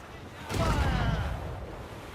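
Ship cannons fire in a naval battle in Assassin's Creed Rogue, a sudden heavy booming volley that kicks in after a brief lull and rolls on loudly before tapering, with no talking over it.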